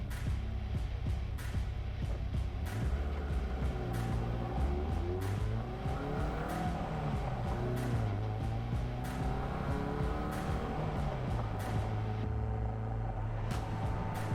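A Caterham 7 on a sprint run at Curborough, its engine roaring steadily throughout and rising and falling in pitch through gear changes and corners, with faint tyre squeal, heard from inside the car.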